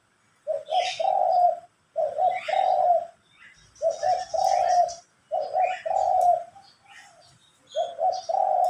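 Pigeons or doves coo repeatedly outdoors in soft, rhythmic phrases, with faint chirps from other birds in the background.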